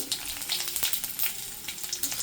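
Cumin seeds, dried red chilies and curry leaves sizzle in hot oil with a steady, crackling hiss and small pops, close up and without any talk.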